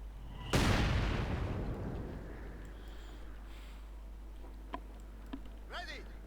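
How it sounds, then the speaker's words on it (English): Mortar fire in the video game Company of Heroes 2: one heavy boom that rings and decays over a couple of seconds, followed by faint distant pops and a whistling shell, with no talk. "Mortar runs going down."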